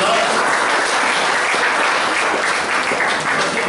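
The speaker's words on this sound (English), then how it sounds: "So please give her a big round of applause." Dense audience applause fills a Toastmasters club meeting, a steady, continuous wash of many hands clapping close by that holds at an even level throughout.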